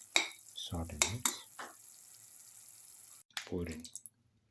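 A spoon stirs salt and spices with curry leaves and red chillies in a cooking pan, brief clinks and scrapes mixed with soft sizzling, under a voice talking.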